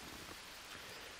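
Steady rain falls in the jungle survival game Green Hell at night, a soft continuous hiss of drops on surfaces, faint and unbroken, with no voices.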